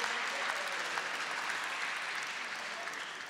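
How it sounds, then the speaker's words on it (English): Audience at a Rainbow PUSH gubernatorial forum giving the candidates a round of applause, a dense wash of many hands clapping, steady and fairly soft, fading slightly toward the end. "Let's give all of our gubernatorial candidates a loving, wonderful round of applause."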